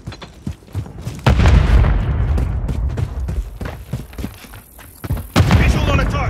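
Grenade explosions and gunfire in Call of Duty MWIII multiplayer, with heavy booms and sharp bursts over a busy battle, and a voice calling out between the blasts.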